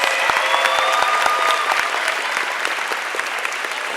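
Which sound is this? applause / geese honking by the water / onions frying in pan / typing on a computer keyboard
applause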